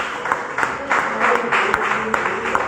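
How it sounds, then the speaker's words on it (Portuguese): A church congregation claps and applauds for Jesus during a worship service, a steady burst of many hands sustained from start to finish. "Vamos dar um aplauso forte para Jesus"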